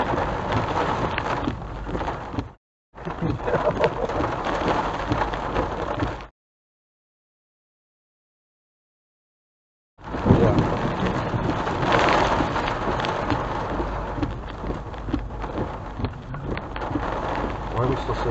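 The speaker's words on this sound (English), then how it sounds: "if we're in green, that's hail, which I think we're in hail now" Hail and heavy rain pound steadily during a tornado and derecho in northwest Houston, a loud dense roar broken by a long dropout, with people talking underneath.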